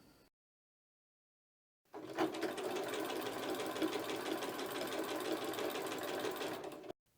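A sewing machine stitches binding onto a quilt, starting after a short silence and running in one steady, close whirring burst for about five seconds before stopping.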